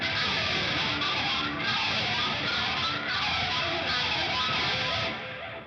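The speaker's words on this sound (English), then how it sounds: "that first scrape that you hear sounds like this" The opening guitar string scrape of a song rings out loud and sustained, a dense, gritty, noisy wash of string noise that holds steady before tapering off at the end.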